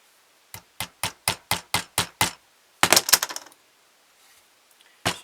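Sharp hammer blows on a center punch into wood, eight evenly spaced taps, then a quick cluster of strikes, a pause, and one final hit.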